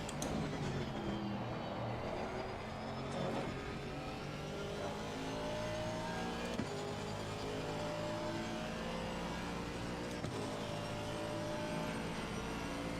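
A GT3 race car engine in Assetto Corsa Competizione drones steadily at high revs for the whole stretch, held on throttle with shifting tonal layers, loud and continuous.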